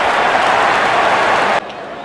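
Cricket crowd applause in Real Cricket 24, a loud steady roar of clapping and cheering that cuts off abruptly near the end.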